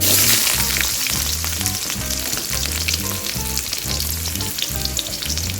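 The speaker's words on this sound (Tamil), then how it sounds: "எண்ணெய் காஞ்சிருத்து கடுகு போட்டுக்கலாம். வெங்காயத்தையும் பூண்டையும் சேர்த்துக்கலாம்." Onion and garlic frying in hot oil with mustard seeds for a South Indian drumstick sambar, a loud close crackling sizzle that runs steadily with no voices.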